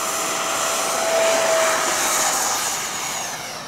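A Marlin 64 mm electric ducted-fan model jet takes off, giving a loud, steady high-pitched whine that swells in the middle and then fades slightly as the plane pulls away.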